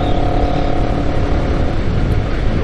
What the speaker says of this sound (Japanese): このなんかブルルルっていう音、マフラーの音なんだかわかんないけど、これが気持ちいいね